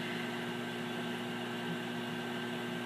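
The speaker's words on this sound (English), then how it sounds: "the fan motor immediately comes on. And it is a little bit louder than what a normal microwave would be." An Amana 2100-watt commercial microwave runs its fan motor in a steady, loud, even whir with a constant hum and no pauses or talk.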